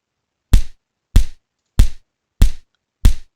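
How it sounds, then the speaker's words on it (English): A punch sound effect from a Python-made Minecraft-style game: five sharp, heavy thumps at an even pace, about two-thirds of a second apart, each a quick impact with a short tail, in silence. "we're gonna play this punch sound"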